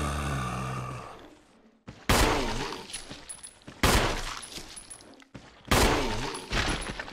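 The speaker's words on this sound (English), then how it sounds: "we're like just going to have to shoot these guys" Bursts of gunfire from shooting enemies in Resident Evil 4 sound in three sharp volleys spaced about two seconds apart, each with a loud crack and a decaying tail, following a brief low sigh.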